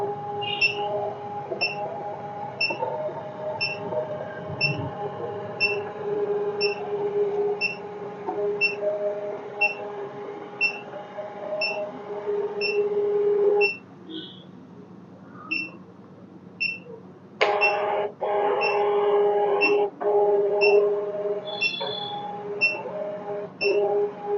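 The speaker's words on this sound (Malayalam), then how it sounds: "നമ്മൾ പ്രിൻ്റ് ബട്ടൺ പ്രസ് ചെയ്ത് കഴിഞ്ഞാൽ മെഷീൻ പ്രിൻ്റ് ഔട്ട് വരും" A Uniwer UMS 7E3 three-channel ECG machine prints out with a steady mechanical whir and regular soft ticking pulses, briefly pausing midway before resuming, heard close with no voices.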